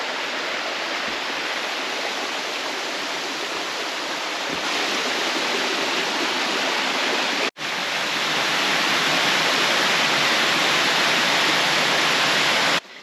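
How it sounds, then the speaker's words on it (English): A constant roar of falling water from a waterfall at Ice Gulch, New Hampshire, dense and loud, steady throughout with a brief dropout partway. "let's get over to this waterfall."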